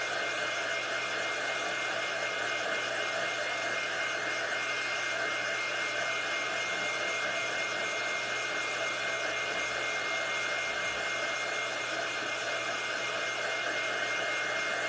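A hair dryer blows on felt reindeer ears for a craft, giving a constant, steady rushing whir that stays close and even for the whole stretch, with no talk.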